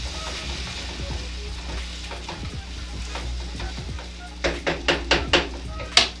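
Chicken jambalaya with Caribbean sausage sizzles and toasts in a pot, a steady close frying hiss with scattered scrapes of a spoon, then a run of sharper stirring scrapes near the end.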